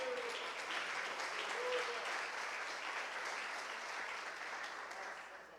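A church congregation applauds steadily in a large room, a dense wash of clapping that holds for several seconds and then gradually tapers, with no clear talking over it.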